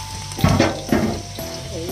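Ginger sizzles steadily as it sautés in a hot pan for a chicken curry, with a few close, sharp scrapes of the spatula over the frying.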